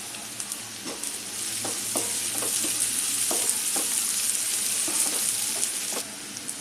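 Onion and green chilli sizzle steadily in a hot pan while a spoon scrapes and stirs in irregular taps, close and continuous, with no talk.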